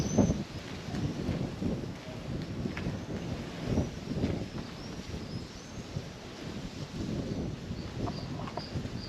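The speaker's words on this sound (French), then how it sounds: "il y a du vent en tout cas" Steady wind buffeting the microphone in low rumbling gusts near an old medieval castle, with faint rustling and a few distant bird chirps in the background.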